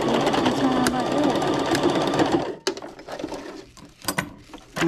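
A sewing machine runs fast and close as it stitches elastic on a tutu anklet, a dense steady whir for a couple of seconds, then stops and starts in short bursts with talking.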